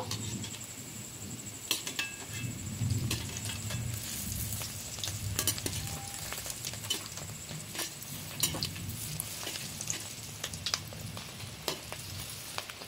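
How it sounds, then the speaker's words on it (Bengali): Fish roe fritters frying in hot white oil, a steady close sizzle with frequent sharp spatters and occasional metal utensil clicks against the pan. "এবার ওই পিঠটা এরকম লাল লাল করে ভেজে নেব।"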